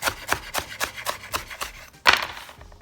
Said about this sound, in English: And then just start slicing fairly thin.